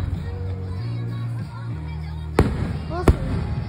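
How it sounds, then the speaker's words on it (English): Fireworks at the Wild Adventures theme park in Valdosta, Georgia, with a low rumbling backdrop and two sharp, loud bursts near the end, over crowd chatter. "Enjoy the fireworks."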